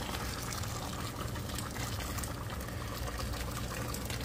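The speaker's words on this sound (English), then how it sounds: "Now we'll add our hot water." Hot water pours steadily into a pot of beef curry with big bone-in pieces of meat, a continuous soft rushing splash that holds evenly throughout, faint and close.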